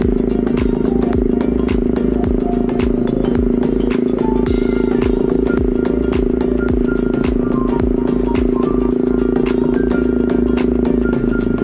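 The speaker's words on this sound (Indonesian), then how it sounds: "kita bawa motornya santuy aja gitu ya kan" A motorcycle is ridden at an easy pace with a loud, steady engine drone up close. Constant rattling and clattering from the road run through it, with no talking.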